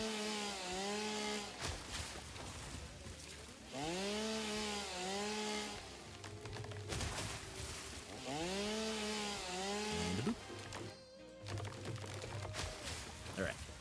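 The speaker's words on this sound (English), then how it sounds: "Chainsaw." Chainsaw in the video game Satisfactory, a revving motor that repeatedly rises and falls in pitch in long swells, steady and prominent throughout with a brief crackling burst near the end.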